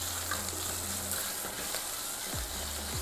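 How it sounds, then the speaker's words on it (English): Two slices of bacon cooking in a pot for Haitian rice with djon djon, a soft steady sizzle heard close at low volume, with a few faint clinks and no voices. "we're going to take our bacon and we're going to add it to our pot. And we're going to let that cook a little bit."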